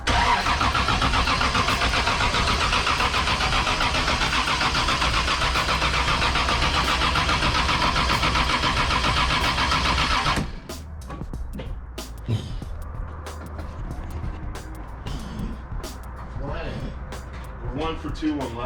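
A Lexus engine cranked and started after sitting unused for more than a year, sounding as a loud, steady mechanical roar that cuts off abruptly, followed by quieter idle-like rumble with scattered clatter and people talking nearby.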